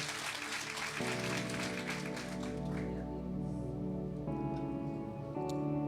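A church congregation applauds, the clapping loudest at first and then thinning as sustained keyboard chords rise and carry on beneath it.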